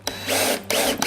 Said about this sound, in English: Always drill a pilot hole.